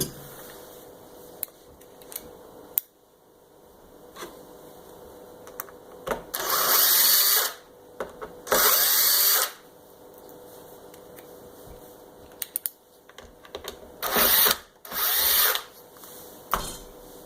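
A power driver spins out the Torx T15 and T20 screws holding the power cord on a Kirby Sentria II vacuum cleaner, with four loud whirring bursts of a couple of seconds each, separated by quieter handling clicks and taps.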